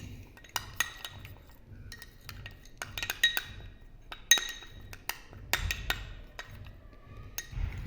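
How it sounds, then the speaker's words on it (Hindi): A utensil clinks and scrapes against a bowl while a few drops of vitamin E oil are stirred into a skincare mixture, with sharp, irregular taps and rings spaced through a quiet room and no speech. "इसमें अच्छी तरह मिक्स कर लूँगी।"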